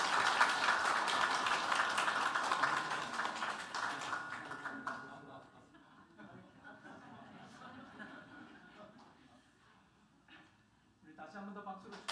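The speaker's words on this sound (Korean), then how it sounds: "우리 박수로 축하하겠습니다" Congregation applauding in a church service, a dense wash of clapping for several seconds that fades out, then scattered light claps and murmuring voices.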